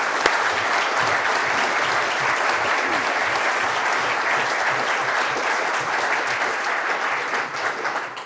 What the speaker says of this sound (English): So I'd like you to join me in a round of applause for Jayant and Rajni for putting on this.